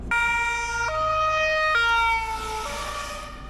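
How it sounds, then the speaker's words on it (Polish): A police car siren wails during the 2024 flood in Jelenia Góra, Poland, its loud, stepped tones rising and falling in steady cycles over a low road rumble, with no talking. "Jeżeli oni jedą tam na sygnałach"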